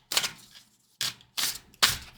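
Tarot cards being shuffled in a few quick riffling bursts, each a sharp papery flutter, close and fairly loud with short pauses between, no talking.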